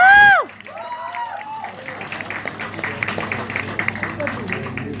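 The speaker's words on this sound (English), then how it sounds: "Claps." An audience claps at an indoor leadership talk as team members are called onto the stage. A brief high tonal sweep opens the clip, then dense, steady applause with some crowd noise carries to the end.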